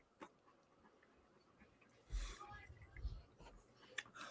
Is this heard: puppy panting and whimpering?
yes